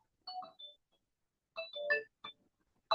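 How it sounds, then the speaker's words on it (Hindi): A phone ringtone sounds indoors in short, bright melodic bursts separated by brief pauses, fairly close and with no talking over it. "अनीता ये फोन ले तो उनको बोलना मैम बाद में करेंगे।"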